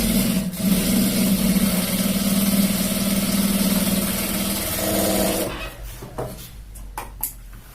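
A sewing machine stitches a pant seat and fly, running as a steady motorized hum for about five seconds before stopping, followed by a few faint handling clicks.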